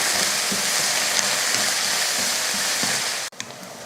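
Two large onions with curry leaves sautéing in a pan make a dense, even sizzle close by that crackles lightly throughout, then cuts off abruptly near the end.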